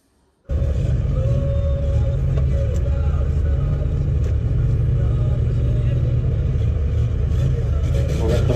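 Turbocharged Chevette engine roaring steadily in a racing video, a loud continuous low rumble that starts abruptly and holds at full throttle throughout, with no speech over it.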